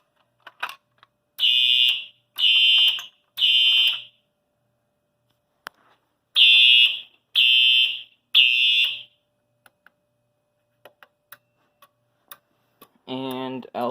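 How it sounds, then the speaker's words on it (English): A Simplex fire alarm goes off during a system test after a pull station is key-activated, sounding shrill, piercing tones in two sets of three evenly spaced bursts with silence between, followed by a brief voice at the end. "Now test this pull station by key activating it."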